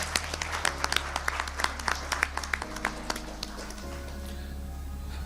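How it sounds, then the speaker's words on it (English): Quiet, scattered clapping from an audience at an accountants' chapter annual general meeting in Kuwait, individual claps distinct over a steady low hum. "I think the outgoing committee deserve another round of applause."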